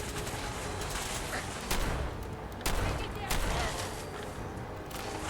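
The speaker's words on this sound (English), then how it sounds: "they're shooting at me from the ground" Enemy gunfire from ground positions in Fallout 4 crackles in repeated volleys, with sharp bursts and rattling shots layered over a busy game soundscape at moderate distance.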